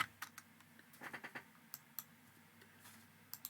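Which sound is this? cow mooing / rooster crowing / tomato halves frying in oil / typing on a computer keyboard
typing on a computer keyboard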